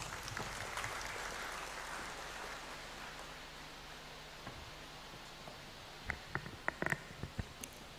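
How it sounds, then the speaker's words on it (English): Audience applause at a University of Ghana congregation ceremony in the Great Hall, a broad steady wash of clapping that thins toward the end into a few scattered, closer claps and taps. "A round of applause as she comes."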